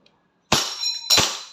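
A WE Glock 35 Force Series airsoft pistol fires twice in semi-automatic, two sharp, loud, close cracks about half a second apart, each with a brief metallic ring, and no talking in between.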